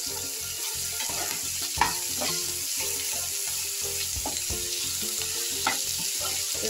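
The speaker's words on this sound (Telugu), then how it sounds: "మసాలా అంతా ఫ్రై చేద్దాం." Homemade masala with mint and coriander fries in a pan for vegetable biryani. The close, steady sizzle is broken by regular rhythmic stirring strokes and an occasional sharp clink, with no voices.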